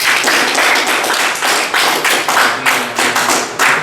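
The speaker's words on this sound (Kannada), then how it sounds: "ಚಪ್ಪಾಳೆ ಬರಲಿ ಸರ್" A group claps for a student at a school event, a close, dense burst of applause with uneven pulses running throughout.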